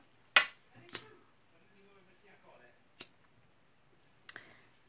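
A lighter clicks several times, sharp separate snaps spaced a second or more apart, while burning the edges of ribbon for a Christmas rosette craft; quiet and close, with faint murmur between clicks.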